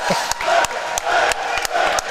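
A gymnasium crowd at a charity celebrity basketball game roars and cheers continuously, with sharp claps and whoops punctuating the loud, sustained din.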